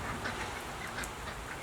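Ducks quack faintly in steady rain, with soft calls rising now and then over a constant wash of rainfall.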